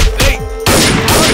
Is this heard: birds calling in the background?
no